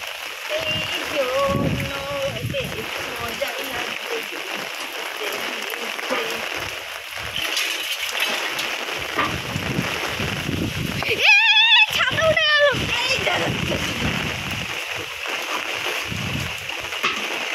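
Heavy rain falls on a rooftop during Cyclone Remal, a dense steady hiss with splashing and spattering water, and a brief voice-like sound partway through.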